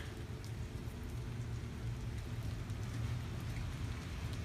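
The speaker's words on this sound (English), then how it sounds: "hopefully we can hear the rain" Steady rain falls outside an open window, a dense, even hiss of drops spread across the recording with a low rumbling undertone, continuous and moderately quiet with no voices.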